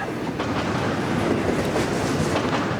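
A long Norfolk Southern freight train rumbles past close by, a steady heavy roar with faint rhythmic clatter of wheels on rails.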